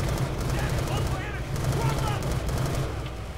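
Rapid automatic AK-47 fire in Call of Duty Black Ops II, a dense, continuous rattle of loud shots with a heavy low-end thump running through the whole stretch.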